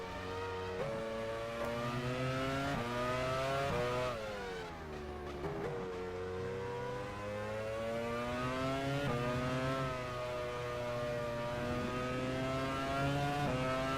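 A Formula 1 car engine from the racing game F1 Challenge 99-02, driven at the 2001 Belgian Grand Prix, drones steadily while stuck in gear, with pitch rising and dipping slightly and a brief drop in the middle. It is close and continuous.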